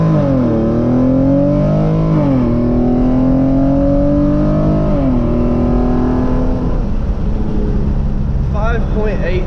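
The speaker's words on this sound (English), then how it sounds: "We're just gonna do a soft normal launch." Tuned Hyundai Genesis Coupe 3.8 pulling hard from a soft launch, its engine note climbing loudly through the revs with two clear upshifts before settling at speed.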